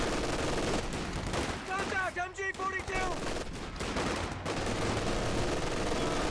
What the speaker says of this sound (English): The MG42 is working quite well here for the Axis team, forcing back a lot of allied troops